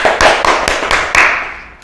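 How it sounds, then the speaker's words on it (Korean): A small audience in a welfare-center auditorium claps in about six distinct, evenly spaced bursts that fade away toward the end, close and fairly loud. "우리 다 같이 박수 한번."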